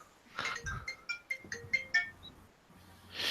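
A phone rings with an incoming call, a bright repeating electronic ringtone pattern of several short tonal bursts, fairly close and clear, with no talk over it.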